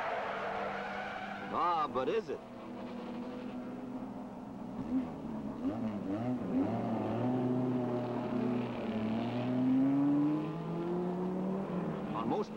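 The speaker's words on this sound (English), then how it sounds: "These cars are doing more than 130 miles per hour." Race cars at the Mosport circuit speed past at over 130 miles per hour, engines whining and rising in pitch as they pass at a distance, while someone speaks briefly over the engine noise.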